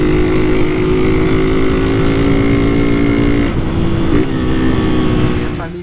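A 2024 Honda Titan motorcycle with a sport tin exhaust and a sporty air filter, engine droning loudly nearby, then its pitch drops in two steps as it downshifts, fading slightly at the end.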